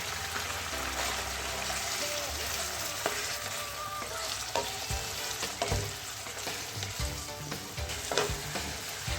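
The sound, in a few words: liver sautéing with ginger garlic paste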